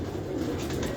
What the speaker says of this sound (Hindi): ये है वो पूरा कबूतर।